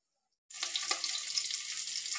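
Tap water splashes steadily from a faucet as pointed gourds are rinsed in a kitchen, a close, continuous hiss that starts abruptly and runs without pause.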